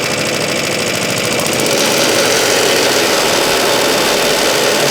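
A Suffolk Super Punch lawn mower engine runs close and loud, its steady mechanical drone rising as the revs are brought up.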